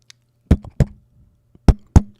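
A voice imitates a heartbeat with two slow, close pairs of dull thumps, each pair a quick lub-dub, loud and near with silence between.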